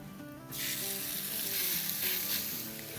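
A burger patty drops into a hot pan and bursts into a loud, close, continuous sizzle that swells and stays strong over a faint background hum, with no talking.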